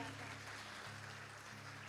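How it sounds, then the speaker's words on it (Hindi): Faint, continuous clapping from an audience at a Bhagwat Katha religious discourse, a soft wash of applause under a steady musical drone. "जैसा मैंने कहा वैसी तालियां, मुझे पता चले कि हाँ आपको समझ में आ गई मेरी बात।"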